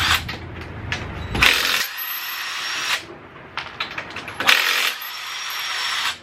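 Close power tool bursts, an impact gun spinning off the rear wheel bolts of a Nissan 350Z with GK Tech spacers, in two loud whirring runs separated by metallic clatter and handling noise, with no talk.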